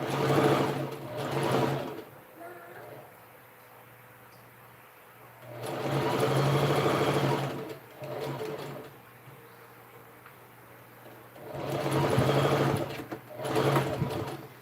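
Sewing machine stitching a fabric bag handle, three loud steady bursts of fast whirring stitches separated by quieter pauses, close and with no talking.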